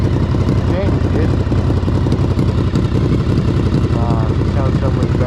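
Honda VFR 750F motorcycle with a leaking exhaust idling close by, a loud continuous low engine rumble throughout, with a person talking over it.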